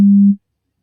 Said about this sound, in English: You will hear 3 tones.